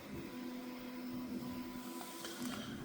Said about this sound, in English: You can hear the printer in the background.